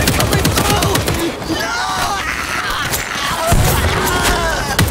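Grenade blasts and gunfire in the zombie shooter World War Z, Tokyo level: dense, loud bursts of combat noise with rumbling booms and clattering shots running continuously.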